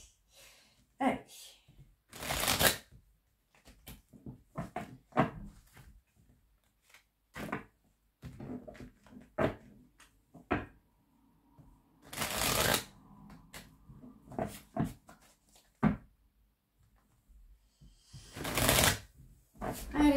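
Oracle cards are shuffled by hand in repeated quick riffling bursts, close and crisp, separated by short pauses, with a voice speaking softly at times.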